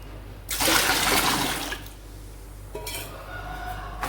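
Water poured into a fermented feed mixture in a container, a loud gushing splash that trails off, then lighter sloshing and trickling close by.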